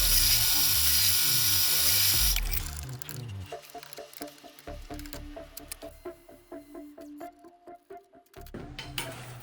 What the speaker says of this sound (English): now that we got our holes drilled and cleaned up